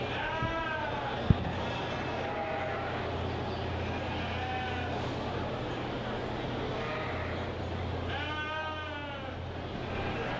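Suffolk ewes bleat at a 4-H county sheep show, several wavering calls rising near the start and again toward the end over a constant crowded hall murmur, with faint voices in the background.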